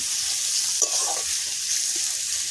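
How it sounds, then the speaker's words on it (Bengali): Chopped onion fries in leftover fish-frying oil, a soft steady sizzle with a brief stir or clink partway through, fairly quiet and close with no talking. "মাছ ভাজার তেলে আমি ভেজে নিচ্ছি"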